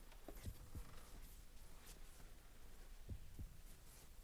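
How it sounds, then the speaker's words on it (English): A heartbeat in the Final Fantasy VII video game, two paired low thumps, then a long pause before another pair, under a faint hum. "Oh, listen to the heartbeat"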